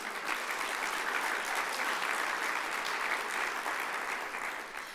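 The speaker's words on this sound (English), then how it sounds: "give yourselves a round of applause" Sustained applause from a large in-person conference audience, a dense even wash of many hands clapping at steady loudness for several seconds before easing slightly at the end.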